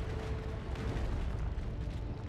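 Heavy mortar shells burst in the Dawn of War 2 real-time strategy game, a dense, continuous rumble of booming explosions with no clear pauses, heard alone without talk.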